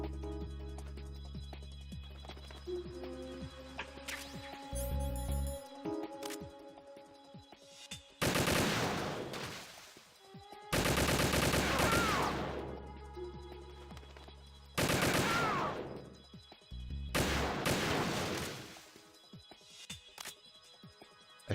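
Sniper rifle fire in Metal Gear Solid 2: Substance on PC, with several heavy, loud shots arriving in separated bursts over an electronic music score, each blast long and broad.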